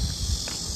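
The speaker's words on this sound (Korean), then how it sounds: "날씨가 오늘 매미가 있네요. 매미가 있어." Cicadas sing outdoors on a green summer day in the countryside, a dense, continuous high-pitched buzzing drone heard in a very short burst over low background rumble.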